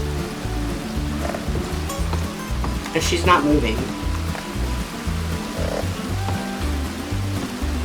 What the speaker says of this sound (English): And of course it's raining, so not a good day to eat outside.